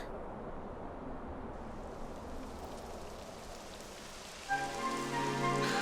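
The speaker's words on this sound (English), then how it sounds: "It would have to go and start raining, wouldn't it?" Rain patters steadily on a surface in the video game Dragon Quest XI S, soft and continuous, with a faint tonal hum rising near the end.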